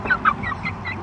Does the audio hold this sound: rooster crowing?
yes